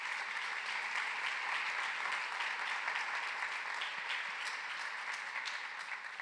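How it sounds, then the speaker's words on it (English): A brief round of audience applause at a youth forum, a continuous, even patter of many hands clapping at moderate distance throughout. "I would like to just give a brief round of applause for the three on the stage with me today"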